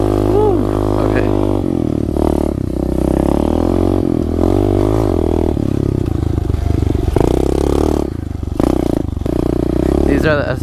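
A 2015 SSR 125 pit bike engine revs continuously up close, its pitch rising and falling with throttle changes, carrying some mechanical clatter and a few brief dips near the end.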